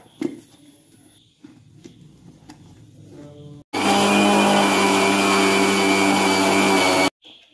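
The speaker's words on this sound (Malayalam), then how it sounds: "ഇതിന് ഒട്ടും വെള്ളമില്ലാത്തൊരു ജാറിക്ക് ഇട്ട് കൊടുക്കാം ഒട്ടും വെള്ളം പാടില്ല കേട്ടോ" A mixer grinder runs a dry jar of spices with no water, a loud steady whirring roar lasting about three seconds after quieter kitchen handling sounds, then cutting off abruptly.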